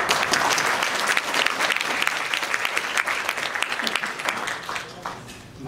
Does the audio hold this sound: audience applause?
yes